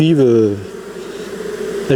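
Honey bees hum as they walk into a small hive, a close, continuous buzzing drone with a voice talking over the start.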